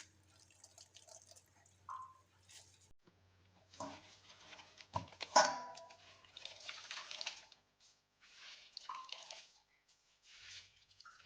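Salt-soaked papaya being squeezed firmly by hand, giving soft wet squishes and drips in irregular bursts, close and fairly quiet with no talking.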